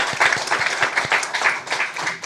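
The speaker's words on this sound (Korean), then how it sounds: "다시 한번 경의 박수하겠습니다." A church congregation at a Sunday worship service gives a brief round of applause, with uneven clapping pulsing and fading over a couple of seconds.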